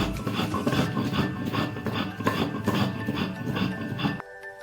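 Fresh ginger with a splash of water ground into paste by hand on a stone, a steady back-and-forth rasping scrape repeating in even strokes, close and fairly loud, stopping abruptly at the end.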